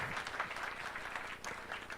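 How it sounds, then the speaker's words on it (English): Hearty applause from an audience at a strategic plan launch event in Kenya, a continuous dense clapping from many hands with faint crowd murmur underneath. "A better hearty clap."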